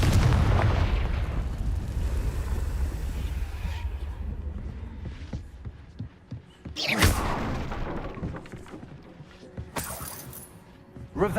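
The Confringo explosive spell in the game Hogwarts Legacy booms, a big rumbling blast that fades out, followed by two more sharp bursts amid a busy game soundscape.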